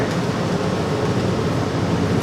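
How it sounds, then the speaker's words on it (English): A train rumbles past at close range in a steady, broadband roar that holds at full strength with no gaps and no talking. "Here comes a train."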